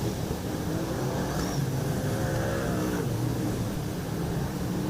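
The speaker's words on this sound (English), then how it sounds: "Big wide wheels biting into this track." Super Sedan race cars tearing around the Lismore Speedway track, a continuous loud engine roar with revving and passing cars, heard from trackside.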